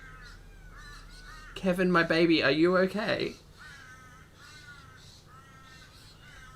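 A pet bird lets out a loud, harsh burst of screechy squawking lasting under two seconds, set between stretches of someone talking, with softer chirps in the background.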